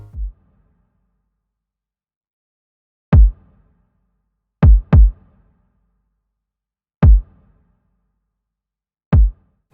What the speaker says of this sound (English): So the kick will sound like this.